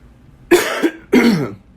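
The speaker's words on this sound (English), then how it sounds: "I'm here and coughing up green crap" Two harsh, chesty coughs from a person with a chest cold, in quick succession, close and loud, with a short pause between them.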